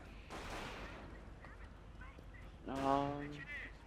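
Mortar and gunfire in the game Company of Heroes: a mortar whistle and a burst of shots ring out briefly in the first second, then a louder blast near the end, set beneath background game noise.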